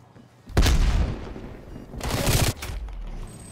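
Gunfire in a Call of Duty match, two loud broadband bursts about two seconds apart, each a dense rattle of rapid shots lasting under a second, with a low rumble between them.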